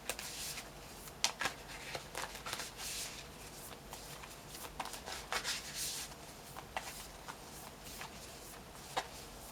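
Moonology oracle cards are shuffled by hand close to the microphone, a soft continuous riffle of sliding card stock punctuated by crisp taps and snaps, steady and quiet throughout with no voice.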